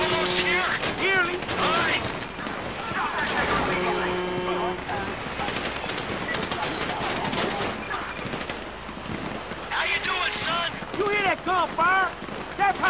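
Rapid bursts of gunfire rattle repeatedly during a bank robbery in Grand Theft Auto V, with machine-gun volleys and scattered shots amid engine rumble and distant shouting voices.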